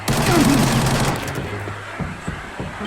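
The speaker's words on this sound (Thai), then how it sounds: "เหมือนจะเป็นบอดยิงกันนะครับ" Computer-controlled bots trading gunfire in the video game Arena Breakout on a TV station map: a loud rapid burst of automatic shots up close, fading into scattered quieter pops.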